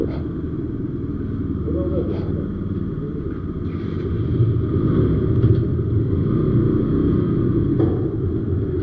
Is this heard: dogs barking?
no